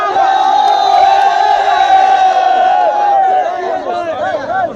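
Dense protest crowd in Khuiratta, Azad Kashmir, shouting and chanting together in a sustained, loud, close roar of many voices, with raised calls cutting through the massed din near the end.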